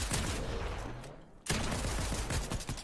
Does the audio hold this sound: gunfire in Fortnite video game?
yes